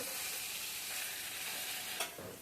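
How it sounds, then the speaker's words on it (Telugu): Gongura leaves fry gently in a pan, giving a soft, continuous sizzle with a spatula scraping and stirring near the end, close and steady with no talking. "గోంగూరను ఇలా సాఫ్ట్గా ఫ్రై చేసుకోండి"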